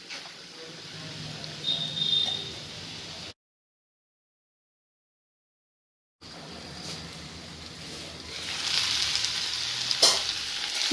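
Onions frying in a pan for a banana flower chutney, a steady sizzle with stirring scrapes that cuts out for a few seconds in the middle and returns somewhat louder and brighter.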